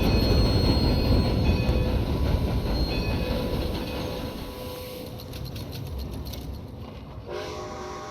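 A train in the video game Red Dead Redemption 2 rolls along with a loud, continuous rumble, then eases off as faint wheel squeal and a drawn-out horn or whistle tone come through near the end.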